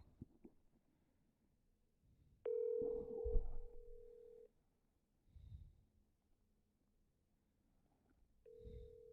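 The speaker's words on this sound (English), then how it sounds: "Why the mayor ain't answering the phone?" A telephone call to a municipal office line, with a steady dial tone and ringing tones that start and stop in bursts, fairly faint and heard alone without talk.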